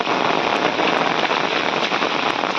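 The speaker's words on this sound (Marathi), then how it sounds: "इकडे पावसाने जबरदस्त एंट्री मारला ना जोरात पाऊस येतात" Heavy rain lashes Konkan farm fields, a loud, unbroken hiss of downpour close by with scattered sharper drop impacts and no voices.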